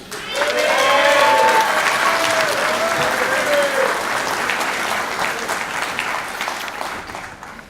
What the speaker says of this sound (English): if we could give another round of applause to our honored guests